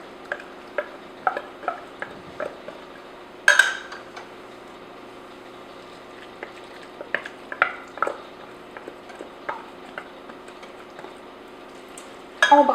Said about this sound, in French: On brasse le tout pour bien mélanger.